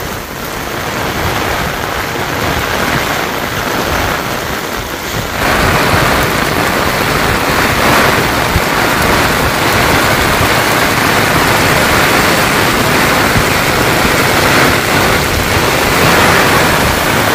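Heavy rain pours steadily over a village, a dense, continuous roar of water that grows slightly louder after the first few seconds and runs unbroken to the end, with no voices.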